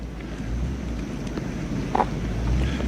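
A steady low engine drone rumbles in the distance for a few seconds under wind noise, with one brief brighter tone partway through.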